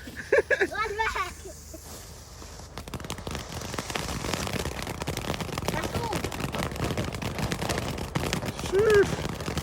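Fireworks crackle and pop in a dense, continuous barrage outdoors in Hackney after a brief exclamation from a voice, with sharp bursts running for several seconds.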